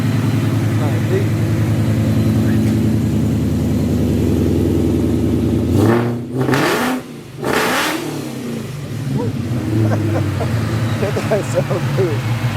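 A Ford F150 with a Coyote V8 swap revving hard close by, then settling into a deep, rumbling idle with a few throttle blips, with people talking over it.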